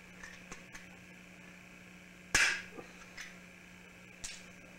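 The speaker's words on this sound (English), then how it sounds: "Take your pop rivet, put in the hole, pop rivet gun," A pop rivet gun setting a rivet into a homemade lightsaber hilt, one sharp metallic snap rising out of a quiet room, surrounded by a few faint clicks and a low steady hum.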